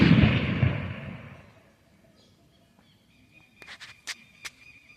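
Firecrackers going off outdoors on the morning after São João bonfire night: a loud, dense burst of blasts at the start fades away, then a few sharp distant pops come later over quiet ambience.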